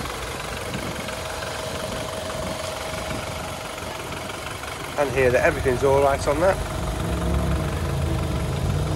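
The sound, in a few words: car engine idling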